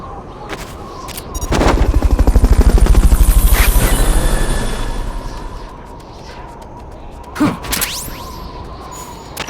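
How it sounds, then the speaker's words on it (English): A Fulton recovery helicopter in Metal Gear Solid: Peace Walker thunders in with loud, rapid rotor chopping that swells and fades over several seconds, followed by a brief whooshing burst; no one speaks. "Fulton recovery subject confirmed onboard helicopter."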